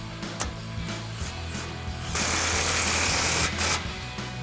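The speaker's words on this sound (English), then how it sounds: "tighten these 2 clamps back here. It's also the same thing, impact and 15mm socket" An impact wrench with a 15mm socket runs up exhaust clamps behind the H-pipe on a 2024-2025 Mustang GT, with a loud steady buzzing burst of about a second and a half after earlier lighter mechanical clicks, close up and free of speech.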